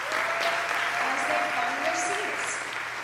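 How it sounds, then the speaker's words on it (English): Steady, dense applause from an audience at a comedy hypnotist show at Barton College, filling the room for the returning volunteers, with faint voices and a brief tone running underneath. "let's give our stars a big round of applause"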